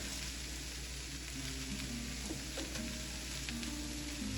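Smothered cabbage sizzles in a pan, a dense, steady hiss and crackle close up, with light stirring clinks now and then and no speech.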